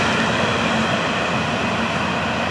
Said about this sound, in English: All right, here's the end of that train.